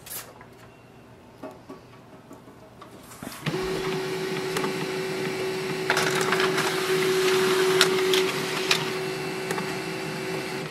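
An HP LaserJet M209dwe laser printer prints a document over Wi-Fi Direct. A few quiet clicks come first, then a steady whirring hum with mechanical rattling runs for several seconds before settling.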